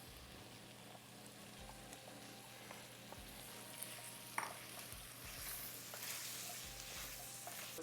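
Carrots tossed into a pan with garlic and onions give a faint, steady sizzle with light stirring scrapes throughout, quiet and without voices.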